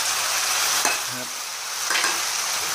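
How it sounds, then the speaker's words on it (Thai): Spaghetti and mushrooms stir-fried in a pan with holy basil leaves, giving a steady close sizzle alone with two brief scraping stirs of a spatula against the pan. "แล้วก็ผัดต่อนะครับผัดให้ผัดสุกนะครับ"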